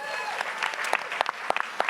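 An audience at a speaker event gives a brief, lively round of applause, dense close clapping with a few sharper individual claps standing out.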